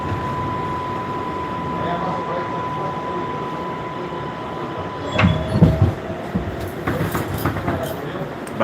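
A New York City subway local train runs with a steady rumble and a faint tonal whine. Louder clattering and rail bursts come in near the end, with a voice faintly present.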